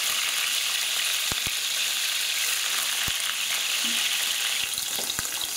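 Salmon fillets sizzle steadily in well-heated oil in a pan, a dense, even crackling hiss that runs throughout, with a few sharp pops and faint clicks from the pan.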